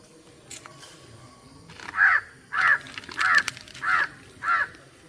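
A crow caws five times in a steady, evenly spaced series, loud and close, with only faint background ambience between the calls.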